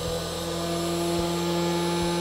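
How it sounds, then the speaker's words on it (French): A 500 W spindle motor on a TwoTrees TTC-450 CNC machine runs while engraving, giving a loud, constant whine with a steady low hum and no change in pitch. "c'est le bruit du moteur 500 watts quand il tourne et qu'il grave"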